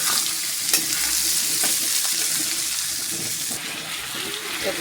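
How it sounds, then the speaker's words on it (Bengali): Chickpeas and potato frying in a pan give a continuous loud hiss of oil, with occasional stirring clinks and a few scrapes as the pieces are moved around. "এবার দিয়ে ভাজতে থাকি।"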